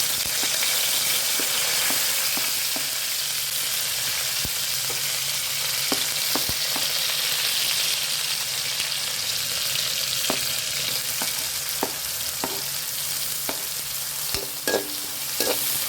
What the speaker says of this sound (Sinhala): දැන් ඉතින් ලුණු ටිකක් බැදිලා ඇති.